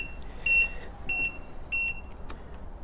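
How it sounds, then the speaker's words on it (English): Aftermarket indicator beeper fitted to a 1989 Kawasaki ZXR750 motorcycle, three evenly spaced high electronic beeps about half a second apart, clear and close over a low background rumble. "So I did put my own beeper down there"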